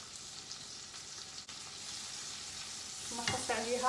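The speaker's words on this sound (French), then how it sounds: "je rajoute mes oignons. je fais revenir" Onions and garlic sautéing in a pan, a soft continuous sizzle heard close, with a brief knock near the middle and a louder burst of crackle toward the end.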